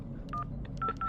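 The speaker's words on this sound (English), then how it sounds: "Hey, stop dialing." A quick series of telephone keypad dialing tones, about five short beeps in uneven rhythm, heard faintly over a low background hum.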